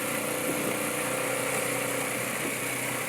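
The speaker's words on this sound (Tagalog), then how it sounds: "Pasensya na po at maingay yung sasakyan natin dahil chariot yung dala natin." Noisy engine of a vehicle called a chariot drones steadily throughout, loud and close, with a constant rumbling hum and no voices.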